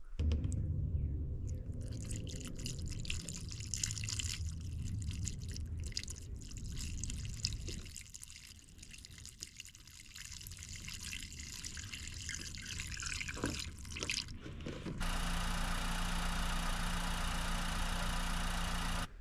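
Coolant from a Honda Fit runs and drips during a coolant flush, a continuous close splashing trickle over a low engine-like hum that shifts character near the end, with no talking.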